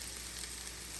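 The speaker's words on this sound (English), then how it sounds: "that potato is sizzling, so I'm gonna go ahead and add the rest of my potatoes" Potato sizzling in hot oil in a pan, a steady hissing fry heard close and fairly faint for a short moment with no talk.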